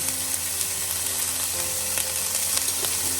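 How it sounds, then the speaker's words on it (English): Onion and garlic sizzle steadily in a heated pan, a close, continuous frying hiss with no pauses or talk. "Once it's heated up a little more, I'm gonna add half of my onion, so 1 onion, 2 garlic cloves"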